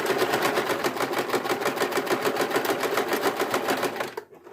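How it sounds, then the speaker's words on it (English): A sewing machine top-stitches a fabric face mask closed, running in a fast, steady rhythmic clatter close by, then stopping abruptly at the end. "I'm going to just go ahead and top stitch this hole closed."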